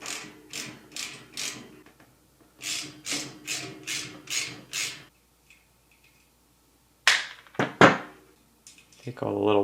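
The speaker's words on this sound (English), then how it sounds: "I'm using this ratchet to undo these 4 nuts on the back." A ratchet with a 10mm socket undoing nuts on the back grille of a Honeywell HV-180 floor fan, several quick bursts of clicking ratchet strokes, a pause, then louder sharp metallic clunks and handling.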